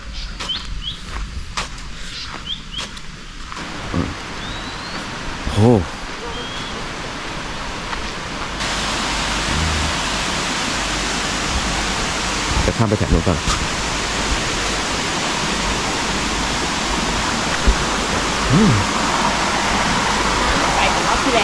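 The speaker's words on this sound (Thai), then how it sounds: "ตรงนั้นจะมีน้ำตกนะ" A waterfall by a coconut grove campsite in Kanchanaburi, Thailand, gives off a steady broadband rush that swells louder partway through and holds. Birds chirp now and then, and people talk over it.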